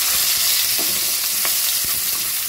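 Chopped onions and whole cumin frying in hot oil, a steady loud sizzle with scrapes and knocks of a spoon stirring the pan, close up and with no talking.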